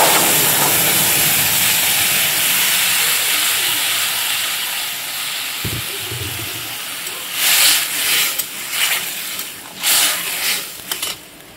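Water holding soybeans hits hot fried jute leaves in a pan, giving a loud, steady steamy hiss that slowly fades, followed by a few close clattering knocks of utensils.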